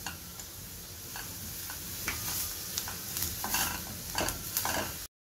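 Capsicum fries in a pan, a constant close sizzle broken by the quick scrapes and taps of a stirring spoon, with no voices, and it stops abruptly at the end.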